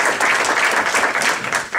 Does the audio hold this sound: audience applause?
yes